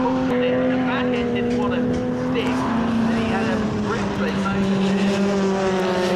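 A BMW and a Ford Focus racing at Snetterton in a Classic Thunder round, their engines droning loudly and continuously with shifting pitch as they run close together, a commentator's voice over the top.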